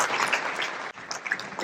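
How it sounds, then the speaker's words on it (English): Audience applause for church honorees, including a sheriff and two nuns, at a missionary alliance anniversary event: dense, steady clapping from a crowd that briefly dips, then picks back up and continues. "How about a round of applause for them?"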